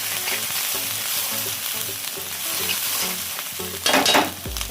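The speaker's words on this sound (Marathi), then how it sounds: "आणि पूर्ण असं मिक्स करून घ्यायचं आहे" Misal pav masala with red chilli powder roasting in oil in a pan, a constant sizzle under repeated stirring scrapes, swelling louder near the end, no voices.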